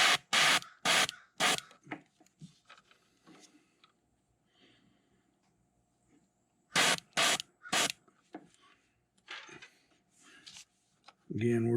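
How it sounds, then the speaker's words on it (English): Airbrush spraying paint onto fishing lures, heard as several short, sharp bursts of hiss in two clusters, close and fairly loud, separated by quieter handling noises. "And I'm going to spray them."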